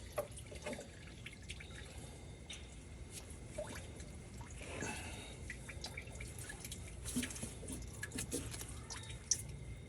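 Coolant draining from a Ford F250 with a 6.0 engine, a faint, steady trickle and irregular dripping of liquid, quiet and close, with no talking.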